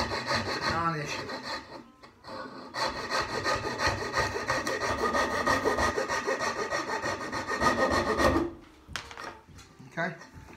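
Hand saw cutting wooden apron tenons to width, a steady, close back-and-forth rasping of strokes that runs for about eight seconds before stopping, followed by a few faint handling sounds.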